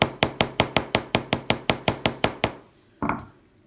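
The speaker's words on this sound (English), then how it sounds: "hammer just the end of my wire." About a dozen quick, even hammer taps flatten the end of 20 gauge silver wire for an earwire, close and sharp, followed by a pause and one last duller knock.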